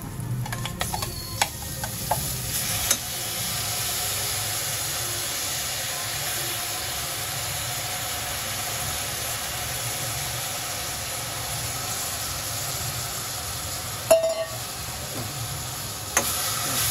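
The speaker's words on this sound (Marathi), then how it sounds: "आता आपण यावर हे डाळ तांदूळ जे धुवून घेतले होते ना ते घालूया." Washed moong dal and rice sauté in a pan for khichdi, producing a continuous soft sizzle and hiss with a few sharper clatters of stirring near the start and end, no one talking.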